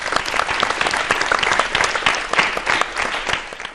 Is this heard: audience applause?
yes